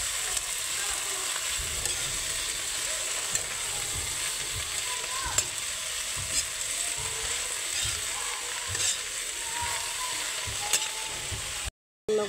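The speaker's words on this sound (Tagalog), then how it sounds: "And then, nag-mix ka para makuha niya mga sahog." Mustard greens (mustasa) sizzle steadily in a hot pan while being stirred, with scraping stir strokes and clinks over a constant frying hiss, cut off briefly near the end.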